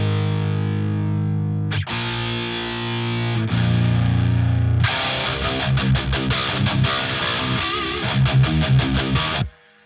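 A virtual electric guitar with a pedal switched off plays a heavily distorted metal riff, sustained chords at first and then fast chugging palm-muted rhythm, loud and close.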